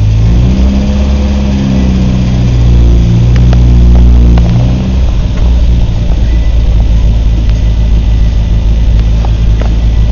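The engine of a Series II Land Rover cold starting and running, a loud, close, rough low rumble with a revving rise early on before settling into a steady idle.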